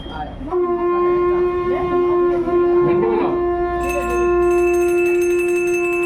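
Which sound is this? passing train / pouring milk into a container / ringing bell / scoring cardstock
ringing bell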